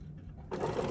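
Sewing machine running a quarter-inch seam on a quilted fabric trash bag, a steady whir that starts suddenly midway and continues close and moderately loud to the end.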